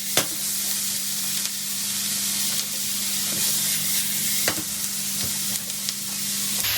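Tomatoes sizzle loudly in a hot pan with a constant frying hiss, while intermittent scraping and stirring sounds come through close up.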